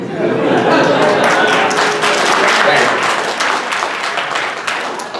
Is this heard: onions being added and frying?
no